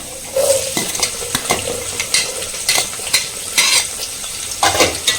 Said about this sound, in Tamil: நல்லா வெங்காயம் வதங்கட்டுங்க